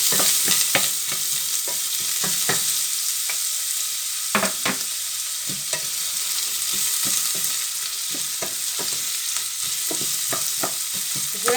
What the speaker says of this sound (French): Et je vais faire frire mes carottes.